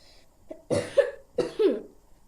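Two sharp, separate coughs from one person, close and fairly loud, each a harsh burst with a short rasping tail, in a quiet room.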